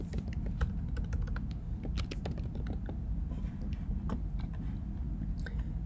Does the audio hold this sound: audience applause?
no